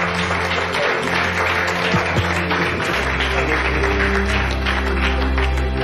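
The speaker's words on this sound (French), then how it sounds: "Est-ce qu'on peut vous applaudir?" Audience applause on a televised travel competition show: a continuous dense wash of clapping that holds steady for several seconds, with a low rumble joining partway through.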